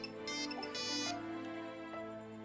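A mobile phone rings in an Indonesian TV drama scene, a steady electronic ringtone with layered tones sounding continuously at moderate loudness, with no talk over it.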